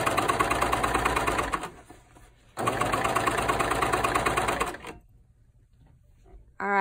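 A coverstitch sewing machine runs in two loud, rapid, continuous bursts with a short pause between, then stops, leaving near silence before a brief restart at the very end.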